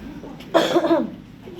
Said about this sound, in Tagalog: Teka na, ubo ko.